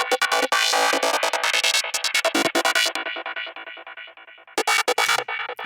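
A psychedelic synth lead from a Microfreak, processed through the Tritium Max for Live device, plays a dense, bright, rhythmic line of choppy stabs and sustained notes, loud and alone with no voices.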